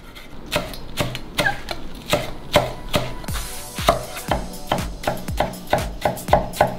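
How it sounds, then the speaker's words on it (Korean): Perilla leaves are sliced thin and fine with a knife on a cutting board, about twenty sharp, crisp chops at a steady, slightly quickening rhythm, close and distinct with no talking. "깻잎도 육회처럼 똑같이 얇게 썰어주시면 됩니다."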